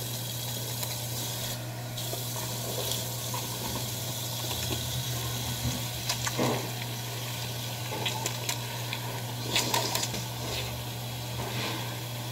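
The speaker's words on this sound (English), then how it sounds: "And go ahead and wash my face." Running water from a sink tap splashes steadily while someone washes their face with foaming cleanser, a soft continuous flow with scattered splashes and hand movements.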